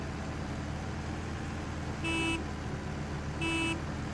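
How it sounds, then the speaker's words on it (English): Two short honks of a truck horn in a driving game, each about a third of a second, sounding over a steady rumbling engine drone as a trailer is hauled through Quebec. "that's the button I use to honk"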